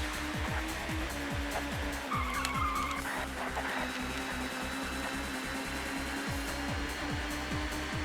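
Touring car tires squeal and skid in repeated bursts while sliding through corners in the TOCA Touring Car Championship racing game, engine revs sweeping up and down underneath, a moderate continuous racing soundscape with no talk.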